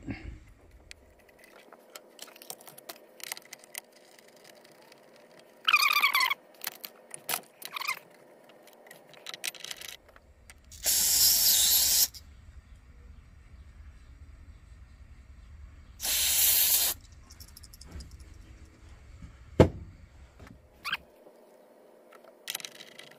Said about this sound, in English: Check valve is still leaking.